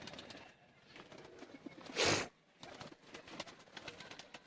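Pigeons in a Sialkot loft, teddy and kamagar fancy breeds, cooing softly at a distance over steady background noise, with a brief loud burst of wing flapping or rustling midway.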